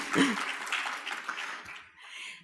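A short burst of conference audience applause and light laughter, fairly soft and brief, fading out quickly.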